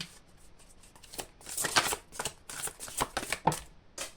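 Tarot cards being shuffled in bursts of papery riffling and flicking, fairly close and moderately loud, with a few sharper snaps as cards jump loose, and no talking.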